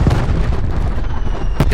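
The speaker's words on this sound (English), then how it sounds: "Throwing cluster grenade." A cluster grenade going off in the video game Call of Duty, heard as a dense, rumbling blast with overlapping booms and pops for under two seconds, close and loud.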